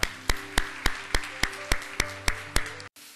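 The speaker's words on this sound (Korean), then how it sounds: "우리 다시 한번 하나님 앞에 그 영광과 감사의 박수 올려드리겠습니다." Church congregation clapping in rhythm at a Korean worship service, about ten evenly spaced, crisp claps in unison, moderately close, ending abruptly.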